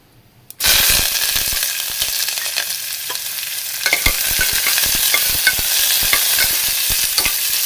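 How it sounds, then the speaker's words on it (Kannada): Onion and curry leaves dropped into hot oil and stirred in a pan, a sudden loud sizzle settling into steady frying with repeated scraping clicks of the spoon against the pan, close with no talk. "ಈರುಳ್ಳಿ ಕರಿಬೇವು ಹಾಕಿ ಸ್ವಲ್ಪ ರೋಸ್ಟ್ ಮಾಡ್ಕೊತಾ ಇದ್ದೀನಿ"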